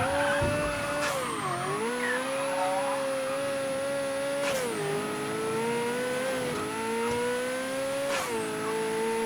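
A car's engine in the game Mafia 3 hums steadily and close up, rising and falling in pitch through several gear-like shifts, with brief sharp bursts around each change and no voices over it.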